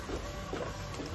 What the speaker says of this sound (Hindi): तो मैं पहले जो फाइल थी उसको इमीडिएटली प्रिंट कर रहा हूँ।